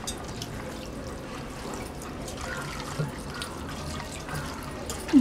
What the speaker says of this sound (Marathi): याच्यावर आपण थंड पाणी ओतून धुवून घ्यायचंय हे पनीर.